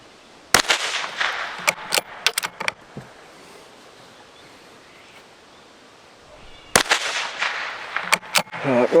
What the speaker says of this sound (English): let's fire a couple of shots